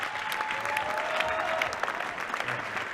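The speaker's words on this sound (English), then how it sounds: "please help me with a round of applause to get this man to sit down" An audience at a chairman's conversation event applauds, a dense, steady patter of many hands clapping together, fairly close and sustained for the whole moment with faint crowd murmur mixed in.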